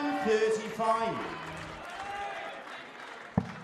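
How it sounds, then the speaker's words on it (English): Spectators at the WDF World Darts Championship clap and cheer in a lively arena, a broad wash of applause sitting under a commentator's voice. "Raucous atmosphere in the crowd. They're being richly entertained"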